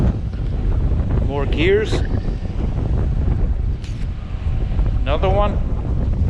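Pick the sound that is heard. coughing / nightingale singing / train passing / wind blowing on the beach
wind blowing on the beach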